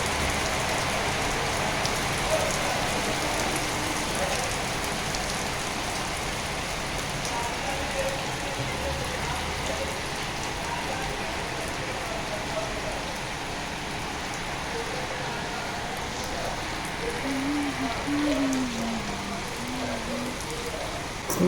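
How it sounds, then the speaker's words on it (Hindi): Heavy nighttime rain pours down steadily, a dense, unbroken hiss of drops drumming on surfaces, close and loud with no pauses. "दोस्तों आज रात से बारिश हमारे यहाँ हो रही है, बहुत भयंकर झमाझम वाली।"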